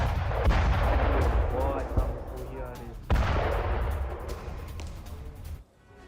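Explosions and gunfire from a Ukrainian missile attack on Belgorod: loud, continuous rumbling blasts with repeated sharp reports, fading out at the end, with a voice faintly present.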